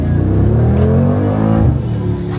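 A Brabus G800 Mercedes G63 G-Wagon with an 800-horsepower engine revving loudly up close, a strong throaty roar rising and falling in pitch over a couple of seconds with a brief crackle at the end.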